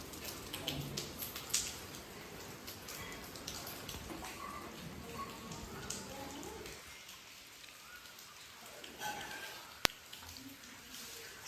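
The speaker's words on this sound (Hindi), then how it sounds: "हमारे यहाँ रात भर से बारिश हो रही थी, करीबन 11-12 बजे से बहुत तेज़ बारिश हो रही थी" Rain falls in the early morning after a night of heavy downpour, a soft, faint, even patter with occasional drips and a brief sharp tick near the end.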